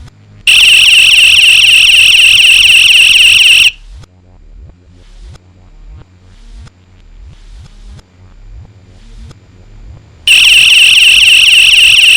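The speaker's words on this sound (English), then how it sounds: "Your DIY personal pocket alarm is now complete." A homemade DIY personal pocket alarm blares a loud, piercing electronic tone for about three seconds, cuts out while handling clicks and rustles fill a quieter stretch, then shrieks again near the end.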